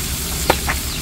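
Chicken intestines frying crisp in hot oil give a steady, close sizzle with a brief pop in the middle.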